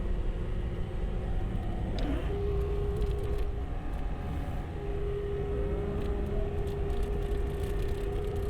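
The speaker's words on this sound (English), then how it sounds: "And we got the skid fired up." A mini skid steer engine runs steadily in a barn, making a continuous low rumble at moderate level with a faint whining tone, and no one speaks.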